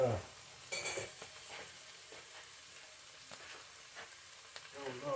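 Collard greens frying under a lid in a pan, a steady close sizzle with a few brief pops and crackles throughout, no talk.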